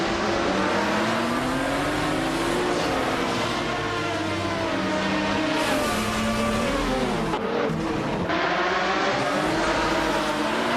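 Race cars at the start of a video game race, a dense continuous roar of several revving engines with shifting pitches and brief skids, loud and unbroken.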